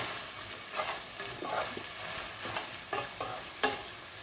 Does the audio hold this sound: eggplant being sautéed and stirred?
yes